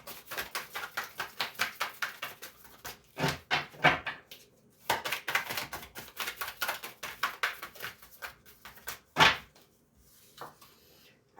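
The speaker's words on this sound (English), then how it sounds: "Two more shuffles and I'll pull from the top." Rapid papery riffling and soft slaps in repeated bursts, with short pauses between, close by and fairly quiet, as tarot cards are shuffled.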